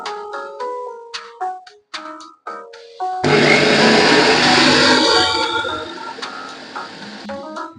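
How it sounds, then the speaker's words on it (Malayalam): A kitchen mixer grinder blends corn kernels in one loud, continuous roaring whir lasting several seconds, tapering toward the end. It is preceded by a run of short clicks and taps. "അപ്പൊ നമുക്ക് ഈ ചോളത്തിന് നമുക്ക് മിക്സിയിലിട്ട് ഒരു അടി അടിച്ചിട്ട് വരാം"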